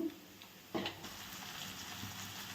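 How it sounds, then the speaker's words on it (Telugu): Carrots frying in a pan with curry leaves and ginger paste for a leafy greens curry, a faint, steady sizzle with a couple of soft stirring knocks near the start. "ఇప్పుడు క్యారెట్లు బాగా వేగిపోయింది కదండి"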